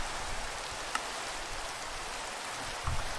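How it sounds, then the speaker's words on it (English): Loud rain in the Minecraft modpack Enigmatica 2: Expert, a dense, even hiss that fills the scene without letup, with a couple of faint ticks. "I need to sleep this rain away, it's really loud."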